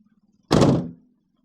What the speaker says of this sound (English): I'll just show you when I close the door here